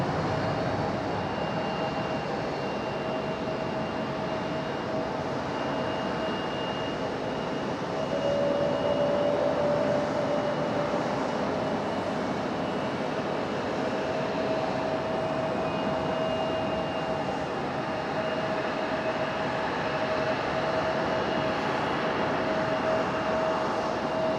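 JetBlue Airbus A220 jet taking off at Raleigh-Durham International Airport, heard from a distance as a steady broad roar with a faint whine, constant and unbroken for the whole stretch, no voices.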